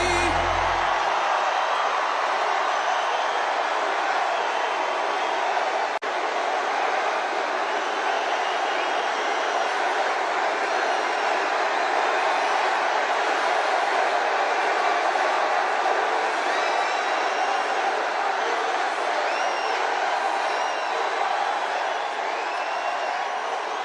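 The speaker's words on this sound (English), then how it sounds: "This is a big crowd." A large crowd at a Donald Trump political rally in Las Vegas roars and cheers in one loud, steady, unbroken wall of sound that lasts the whole stretch.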